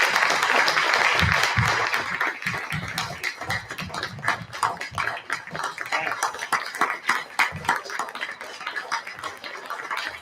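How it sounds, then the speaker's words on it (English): Conference audience applauding panelists on stage: loud, dense clapping that starts full and then thins into sparser, irregular claps, with a few individual hand claps standing out near the end. "Can we give them a big round of applause?"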